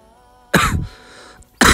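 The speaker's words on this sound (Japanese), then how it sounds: "咳がやばい" Two harsh coughs burst out close by, separated by a short pause and a faint throaty rasp.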